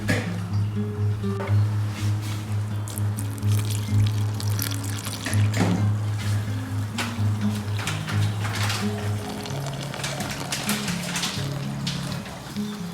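Water runs and splashes steadily into a bowl of flour for several seconds, 700 grams for sourdough, close by, with a low hum underneath and occasional small knocks.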